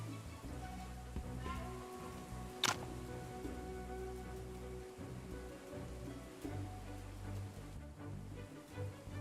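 Steady rain falls in the Wandering Sword video game, a soft continuous patter close by with a faint low rumble underneath and no talk over it.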